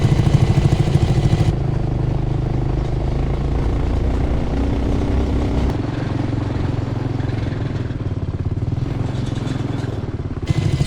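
A go-kart engine runs steadily as the small vehicle climbs a narrow, rough, steep trail in Utah. The motor drones loudly and continuously, with rattling and clatter from the bumpy ground.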